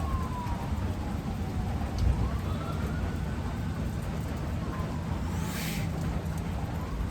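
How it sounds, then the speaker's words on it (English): Faint sirens wailing in the distance, rising and falling beneath a steady wash of outdoor noise on a rainy day. "Just hearing some sirens in the background."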